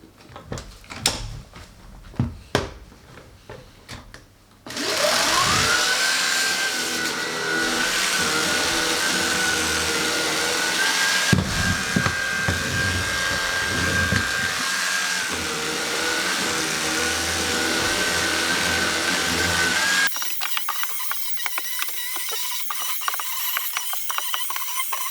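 A Shark Anti Hair Wrap IZ201UK cordless vacuum cleaner with a motorized head works on stairs: a few knocks and bumps, then a steady loud whining roar for about fifteen seconds that cuts off abruptly, leaving quieter handling noise.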